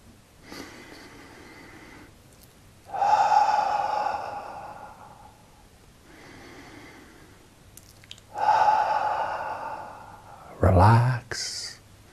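Slow, deep breaths in and out, each drawn out over a few seconds, close and alone, ending with a sharper audible sigh.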